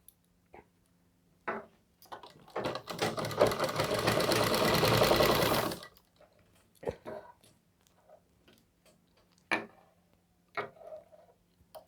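Sewing machine stitching a round suit collar, running in one steady loud burst of about three seconds, with brief short bursts and handling clicks before and after.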